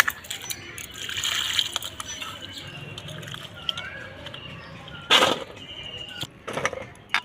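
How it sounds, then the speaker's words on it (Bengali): Mangoes being washed by hand in water, with sloshing, trickling and splashing that rises and falls, including a sharp louder splash midway and a few brief clatters. "ভালো করে আমটা ধুয়ে নেব প্রচুর আমের কষ আছে"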